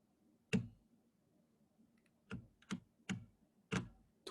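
Keyboard keys tapped during a BIM software lecture, giving five sharp, separate clicks at uneven intervals, close and fairly loud above a faint steady hum.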